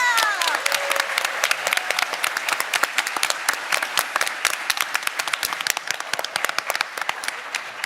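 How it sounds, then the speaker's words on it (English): A convention main-hall crowd claps for cosplay contest contenders with sustained, lively applause and distinct sharp claps throughout, holding strong for nearly eight seconds, with a voice briefly audible at the start. "can we give a big round of applause to all of our cosplay contenders?"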